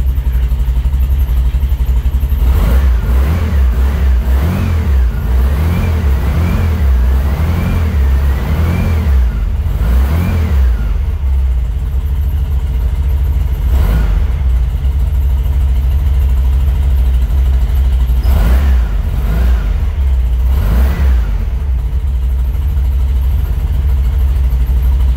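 A replica speedster car engine idles with a deep rumble, then revs repeatedly in rising and falling bursts before pulling away, loud and close throughout with no talking.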